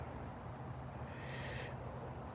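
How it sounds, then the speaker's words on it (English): Crickets chirping outdoors at night, faint high-pitched trills coming in several separate bursts that overlap like two insects alternating, over a low steady background hum. "The crickets right now are having a duet."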